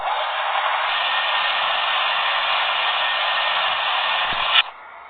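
A lathe in a Lathe Simulator application runs with a steady, even whooshing hiss that stops abruptly near the end.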